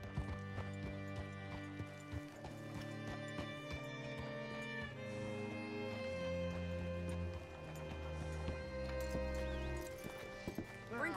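Horse hooves clip-clopping with an occasional whinny in the Western video game Red Dead Redemption 2, a steady mid-distance rhythm layered over a music score, with faint background voices.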